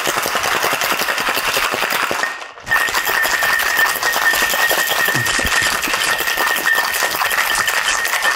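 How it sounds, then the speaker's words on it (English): Ice rattles rapidly and continuously in a cocktail shaker as a Pimm's cocktail is shaken hard and close, with a brief pause partway through before the shaking resumes. "And shake our cocktail."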